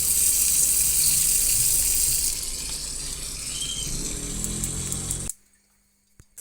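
Water gushes steadily from an opened tap feeding a gas water heater with a faulty hydro unit, a loud continuous rush with a low pump-like hum beneath, which cuts off abruptly near the end, leaving near silence.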